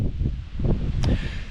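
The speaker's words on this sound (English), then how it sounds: "It's blowing an absolute hoolie." Strong gusty wind sweeps across an exposed crag high on the Cheviot hills, roaring low and steady for a moment with buffeting against the microphone.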